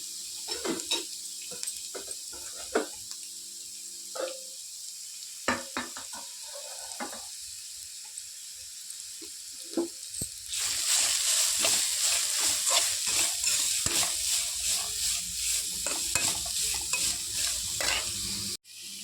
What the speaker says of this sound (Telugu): చూడండి నెయ్యిలో ఫ్రై అవుతుంది క్యారెట్